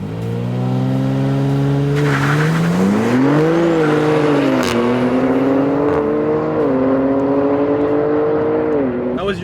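Race car making a run at an airport track, engine loud and near, revving up through several gear shifts with rising and falling pitch, continuous throughout with no pause.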